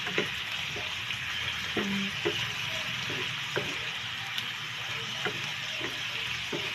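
Fried tofu (tukwa) sizzles steadily in hot oil alongside squid, a continuous close crackle with occasional louder pops and spatters.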